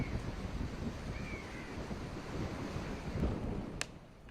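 High-tide waves surge up to 4.59 metres along the Mumbai seafront, making a constant rushing wash of surf mixed with gusty wind noise, with a crow cawing briefly in the background.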